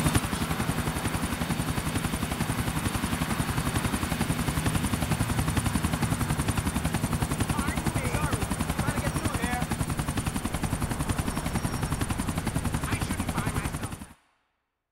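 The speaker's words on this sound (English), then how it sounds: "Lucy, take the chopper lower, man" A helicopter in Grand Theft Auto IV flies with a constant rapid rotor chop and engine whine, loud and unbroken for about fourteen seconds before cutting off to silence.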